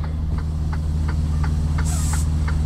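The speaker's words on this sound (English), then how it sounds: "Tractor and trailer brakes released." Air brakes on a tractor-trailer hauling a load of French fries release with a sharp hiss, heard near and brief over a steady idling truck engine rumble with faint periodic ticking.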